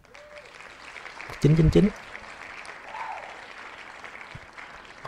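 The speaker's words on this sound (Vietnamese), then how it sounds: "Pháo bông nghỉ vỗ tay rồi kìa." Applause sound effect during a lottery spin in the video game Morbid: The Lords of Ire, a short clapping burst rising briefly over ongoing talk and a low game background.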